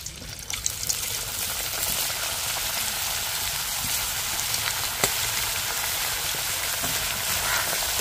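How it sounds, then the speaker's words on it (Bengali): Potato chips frying in a pan of hot oil, an even hissing sizzle like light rain, close and constant, with occasional small pops and clinks. "বাকি চিপসগুলো দেখুন কত সুন্দর ভাজা হচ্ছে।"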